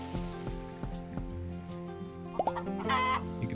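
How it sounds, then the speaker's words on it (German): A chicken in the farming video game Farm Land on Switch clucks in short bursts over steady, tonal game sounds, heard alone without talk. "Hier gibt es noch das Huhn."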